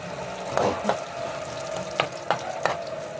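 Garlic sizzling in hot oil in a pan, a steady crackling fry with a few sharper stirring scrapes on top, close up and without talk.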